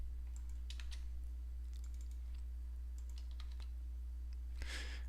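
Quiet clicking of a computer keyboard as commands are typed, coming in short bursts of keystrokes over a steady low electrical hum, with a louder clatter near the end.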